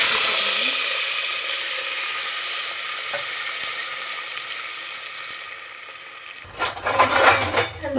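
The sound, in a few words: stirring and mixing the avarekai sambar in a pot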